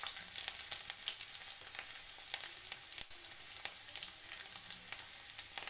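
Chopped garlic dropped into hot oil already crackling with five-spice (panch phoron) tempering, a steady bright sizzle with scattered pops and spits throughout, close and fairly loud, no talking.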